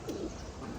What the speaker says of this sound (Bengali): আর এই যে কবুতরগুলো